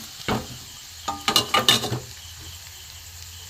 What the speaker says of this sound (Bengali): একটু ভালো করে ভেজে নেবো রসুন আর পেঁয়াজ এবার আমি মশলাগুলো সব দিয়ে দেবো